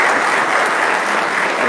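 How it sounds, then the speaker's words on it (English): Steady, dense clapping from a church congregation during Sunday Mass, a continuous wash of many hands close by with no talking. "Let us give big applause and congratulations."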